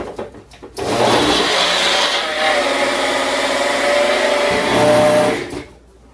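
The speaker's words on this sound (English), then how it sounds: "just blend up this shake in a magic bullet" A Magic Bullet blender whirs loudly through a protein shake, starting abruptly, holding a steady buzzing drone for about four seconds, then cutting off; no talking.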